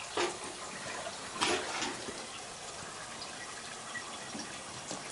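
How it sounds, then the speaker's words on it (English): Cold water is poured around the walls and into the middle of a cauldron of sheep's milk heating over a fire on a traditional Romanian sheep farm. Faint splashing gushes come in a few short bursts over a quiet background. "So he poured some cold water all around it, to the walls and in the middle."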